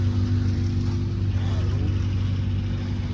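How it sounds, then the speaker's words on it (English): A pulling tractor's engine runs at an Allis-Chalmers tractor gathering in La Porte, Indiana, giving a loud, steady, low rumble throughout, with people talking over it. "Pulling tractor."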